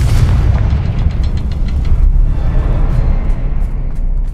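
The Confringo spell in Hogwarts Legacy explodes as a loud, deep, rumbling boom that rolls on for several seconds inside a cavern.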